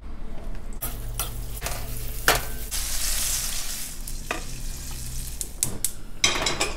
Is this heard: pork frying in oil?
yes